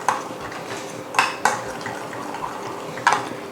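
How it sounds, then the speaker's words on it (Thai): A spoon stirs agar powder into warm water in a pot, with soft continuous swishing and a few sharp clinks of metal against the pot. "ใส่ผงวุ้นลงไปเลยค่ะ คนให้เข้ากันค่ะ"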